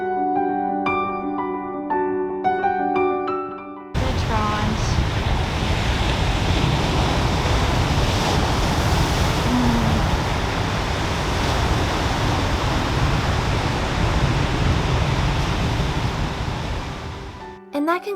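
Pacific Northwest ocean waves breaking on an Olympic Peninsula beach in Washington, a loud, steady roar of surf with wind noise, following a few seconds of music at the start.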